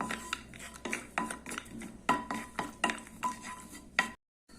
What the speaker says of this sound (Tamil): நான் முந்திரி பருப்பு ஒரு பத்து முந்திரி பருப்பு உடச்சி வச்சுருக்கேன் அதை கொஞ்சம் செவக்க வறுத்துக்கலாம்